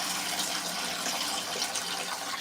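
Water gushes steadily from a toilet tank while the fill valve is being replaced, a loud, continuous broadband rush with no pauses and no talking.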